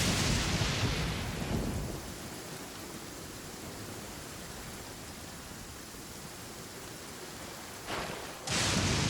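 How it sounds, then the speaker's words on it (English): A storm in Genshin Impact with heavy, hissing rain and a long rolling rumble of thunder, followed near the end by two sudden bright cracks of striking lightning, loud and close. "Oh god, we're in water as electricity strikes."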